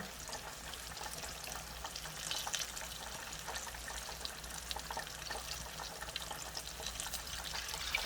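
Chicken fries in a pot of hot oil with a continuous, even hiss and fine bubbling crackle. The sound is quiet and steady throughout, with no voices.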